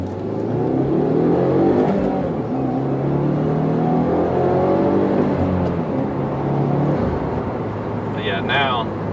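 A 2015 Subaru WRX with a six-speed manual drives along back roads, its engine droning steadily under continuous cabin noise with gear-change dips and a brief high chirp near the end.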